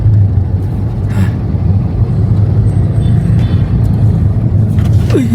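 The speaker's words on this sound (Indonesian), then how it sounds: "Aduh, macet nih lur." Road traffic in a jam: steady low engine rumble and idling vehicles close by, a continuous dense drone with a brief rising whine near the end.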